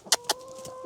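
Two short, sharp clucks from a nearby rooster, followed by a faint steady tone in a quiet setting.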